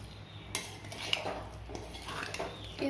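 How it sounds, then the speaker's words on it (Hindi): Boiled pasta being stirred in a cooking pan, with scattered metal utensil clinks and soft scrapes against the pan, quiet and close, with irregular taps between gentle stirring. "सभी पास्ते को हमने डाल दिए हैं। अब इस तरह से चला दूंगी।"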